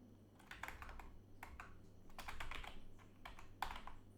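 Keystrokes on a computer keyboard while code is typed, coming as scattered quick clicks and short bursts over a low steady hum, fairly close and quiet, with no talking.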